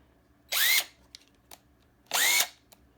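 Craftsman brushed impact driver from the basic line, run in two short bursts of about a third of a second each, with a whining rise in pitch as it spins up, fairly close and loud, separated by a quiet pause with a few faint clicks.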